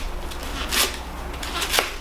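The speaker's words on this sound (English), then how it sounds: "and then I'm just gonna chop them." A knife chops vegetables for Mexican pinto beans, giving soft scraping cuts and two louder, crisp chops against a board over a faint background hum.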